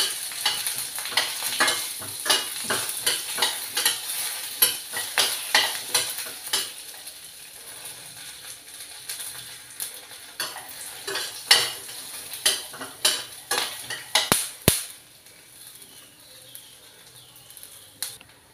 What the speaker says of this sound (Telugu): పల్లీలు వేగిపోయాయి.